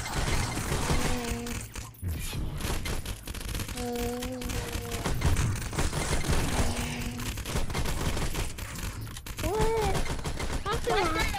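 Rapid bursts of gunfire from the VR shooter Gunheart crackle almost continuously, with mechanical clicks and a few rising electronic tones, while voices talk over the action.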